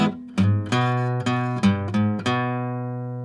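A guitar picks out a bass roll on the low strings, about seven plucked notes in an even stepping rhythm, each ringing clearly, alone and close.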